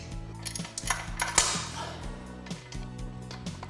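A wrench works loose the manifold bolts on a Lotus engine in a workshop, giving several close, short metallic clicks and ratcheting clanks over a steady low background hum.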